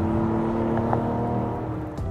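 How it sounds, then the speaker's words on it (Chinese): A Mazda CX-90 with an inline-six turbo engine accelerates on a mountain road, giving a steady droning hum with a rising tone, heard from inside the cabin. "直六涡轮引擎， 其实这个声音还是蛮丰富的哦。"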